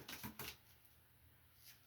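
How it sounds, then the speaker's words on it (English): Playing cards shuffled by hand in a quiet room, a few quick riffling bursts close up at the start, then fading into soft near-silence. "Why am I shuffling again?"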